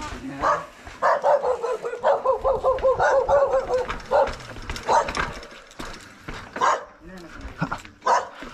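A dog barks repeatedly in quick bursts nearby, mixed with people talking over and between the barks.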